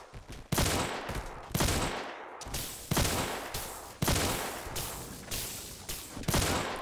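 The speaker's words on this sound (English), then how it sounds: "I shot you in the face 5 fucking times." Rapid bursts of gunfire in a VR action game, sharp close shots repeating in quick irregular volleys with brief gaps, loud and dominant with no talk over them.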